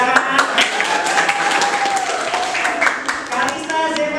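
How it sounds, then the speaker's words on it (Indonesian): A classroom of students claps during a teacher's lesson, a busy spatter of hand claps running throughout while voices talk over it. "Nah, tepuk tangan."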